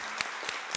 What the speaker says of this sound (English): I would like you to clap your hands for our speakers and give them a round of applause.